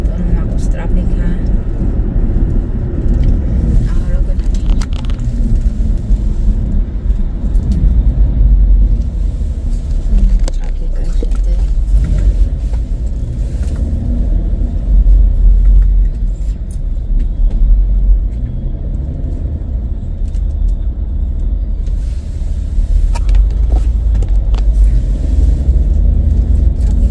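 Road traffic while stuck in a jam, a loud, continuous low engine rumble of cars and buses close by, with a person talking over it throughout.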